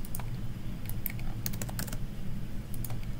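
Keys on a computer keyboard are tapped while drafting in Civil 3D, a short burst of crisp clicks with pauses between them, close and clear over a low background hum.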